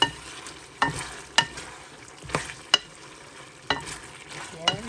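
Igado, a Filipino pork and liver dish, sizzles in a pan while a utensil stirs it, with several distinct scraping strokes spaced about a second apart over a low, steady frying hiss, close and clear.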